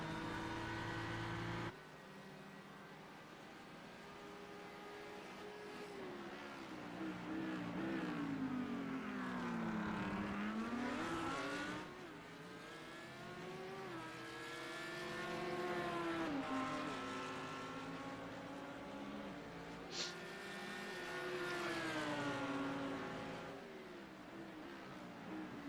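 Audi race car engines at Sebring International Circuit in a sim racing game, with a continuous loud engine drone whose pitch rises and falls as the cars accelerate and brake through corners, and no talk over it.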